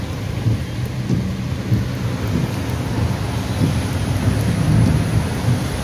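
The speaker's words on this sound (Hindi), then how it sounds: "बारिश जो है नॉन स्टॉप चल रहा है, अभी तक चल रहा है हल्की हल्की," Steady, dense monsoon-style heavy rain roars without pause on a flooded ring road, a thick continuous wash of sound with low rumbling underneath.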